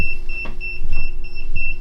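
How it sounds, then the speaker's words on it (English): An EMF meter beeps in a rapid, repeating electronic pulse, steady throughout, close by, with a faint hum and a few soft handling bumps underneath. "if you bring it to the camera, there'll be a beeping sound"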